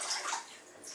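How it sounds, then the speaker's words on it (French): A small splash of water poured into beaten egg while making choux pastry, a brief soft trickle lasting about a second. "Je vais mettre un petit peu d'eau, pas beaucoup."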